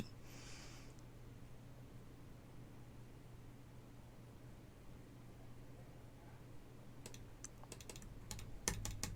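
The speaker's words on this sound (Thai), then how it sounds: "มีเสียงเมาส์ด้วยเหรอ" Computer keyboard typing and mouse clicks during play of Arknights, faint and distant at first, then a burst of sharp clicks near the end over a steady background hiss.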